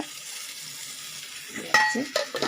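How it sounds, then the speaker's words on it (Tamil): Water poured into tomato gravy frying in a pan, a low steady sizzle that flares into louder bubbling and spitting as the liquid hits the hot oil, close by with faint clinks of a utensil. "இப்போ நம்ம அந்த மிக்ஸி அலசி வச்ச தண்ணியும் ஊற்றிடலாங்க"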